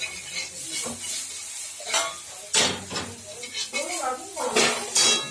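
Spoon scraping and stirring sugar into spices in a pan while making egg tarka, with irregular clinks and scrapes, a light sizzle underneath, and a voice talking over it.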